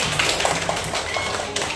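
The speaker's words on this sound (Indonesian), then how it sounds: "Oke, tepuk tangan yang datang sekolah hari ini." A class of schoolchildren claps hands in a quick, steady run of soft taps that lasts under two seconds, heard alone without talk.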